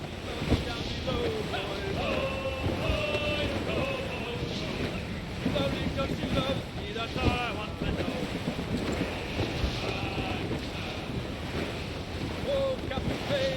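A sailing ship under full sail in Assassin's Creed Rogue, with steady wind and waves rushing against the hull throughout, and voices and music on top.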